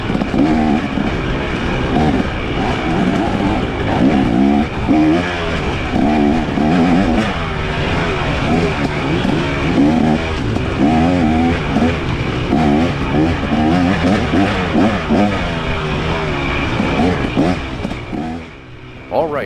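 Yamaha YZ150 dirt bike engine on a trail ride, running close and loud with constant revving and throttle swells throughout, a voice speaking over the engine noise.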